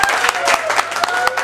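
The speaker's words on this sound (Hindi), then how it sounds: "तो एक जोरदार ताली बजाकर स्वागत" An audience claps to welcome Kanishka at a Bhojpuri music release event, with a quick burst of dense, energetic applause and crowd voices underneath.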